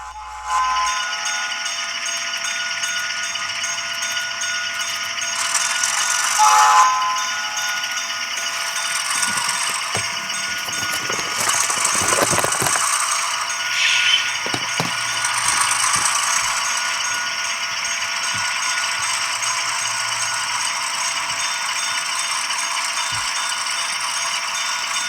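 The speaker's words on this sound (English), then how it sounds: "Note again how the locomotive simulates the strain of the engine going up the hill by increasing the sound effects." A Bachmann RS 3 model diesel locomotive with a sound decoder, climbing a hill, makes a continuous rattling, humming engine drone with shifting intensity and occasional clanks and dings over about twenty-five seconds, heard close and alone.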